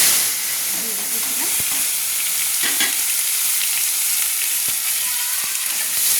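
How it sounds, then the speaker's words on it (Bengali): Chopped tomatoes fry in hot mustard oil, a steady close sizzle and hiss running throughout with a few faint clinks of a utensil. "তেলটা আমার গরম হয়ে গেছে, কেটে রাখা টমেটোগুলো আমি দিয়ে দিচ্ছি।"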